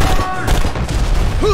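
A grenade explodes amid gunfire in the BlackSite Area 51 video game, a loud, dense burst of blasts and shots packed into a moment, with a voice over the din.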